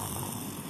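A human voice imitates soft snoring with one brief, breathy, rasping drone that stays steady and fairly quiet.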